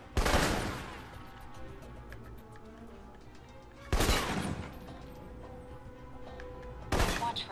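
Assault rifle fire in the game Alpha Protocol, three loud sharp shots spaced a few seconds apart, each ringing out over a steady background din of game ambience.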